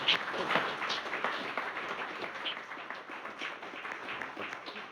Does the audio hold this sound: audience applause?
yes